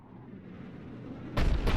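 A Cerberus artillery cannon in Mass Effect 3 fires after a rising rumble, giving one heavy booming blast followed quickly by a second, loud and close.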